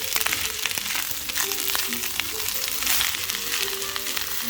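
Celery stir-frying in a pan for Hawaiian fried rice gives a steady, close sizzle with scattered stirring scrapes and clicks throughout, no voices.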